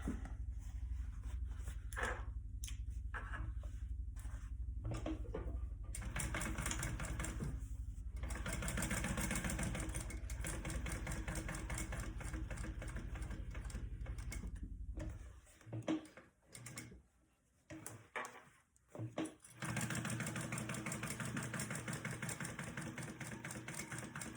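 A sewing machine top stitching a bag seam runs in a steady, fast mechanical whir with rhythmic needle ticks, pausing briefly with a few short bursts before running on again.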